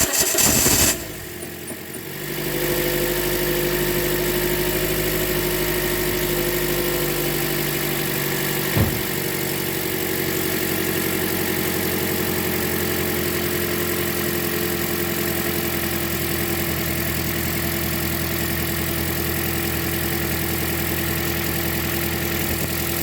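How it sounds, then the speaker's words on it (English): A 2010 Toyota Corolla 1.8 engine starts and settles into a steady idle, running alone with its accessories removed; the hum stays even and moderately loud, with a single brief click partway through. "So I'm just going to turn the engine on and just to make sure that the noise has gone away"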